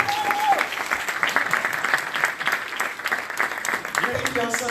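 A congregation applauds to welcome a woman to the front during a church service, a dense, sustained round of clapping that stays loud and even throughout, with a voice briefly heard at the start and again near the end.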